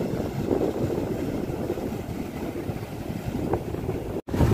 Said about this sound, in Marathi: कुठपर्यंत लाट येते बघा, केवढी लाट येते